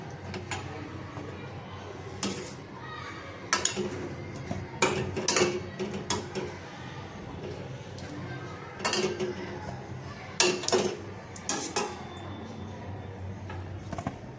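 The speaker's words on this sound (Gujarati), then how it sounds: "મકાઈને આપણે બીજા વાસણમાં લઈ લઈશું।" Boiled corn moved from one pot into another, with scattered sharp metallic clinks and knocks of utensils against the vessels, irregular and close, over a low kitchen background.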